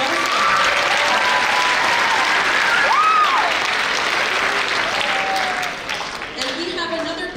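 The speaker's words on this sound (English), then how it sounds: "Round of applause." Audience applause at a school winter orchestra concert, loud and sustained for several seconds, with a few voices calling out, before thinning out near the end.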